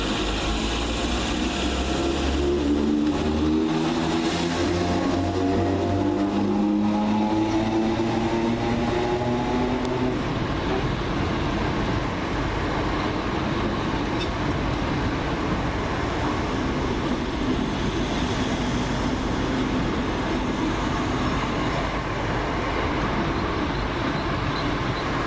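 A pair of Greater Anglian Class 317 electric multiple units runs through Meridian Water station on a Stratford service, a loud continuous roar of wheels and motors that rises as the train nears and stays dense throughout.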